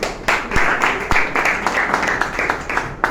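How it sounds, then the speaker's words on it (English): An audience claps for a woman who just finished speaking about the health benefits of eggs and chicken, a moderately loud, steady patter of many hands with sharp individual claps standing out throughout. "Please a round of applause for her once again"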